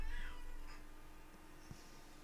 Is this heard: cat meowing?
yes